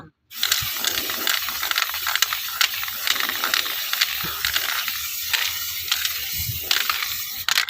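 Gold spray paint hisses from an aerosol can onto an old fan in a run of close, loud bursts with faint rattling between them, and nobody speaks.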